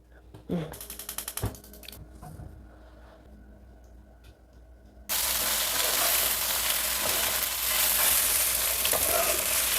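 Cilok snacks sizzle loudly in hot oil, a dense continuous crackle that starts abruptly partway through after some clattering and rustling.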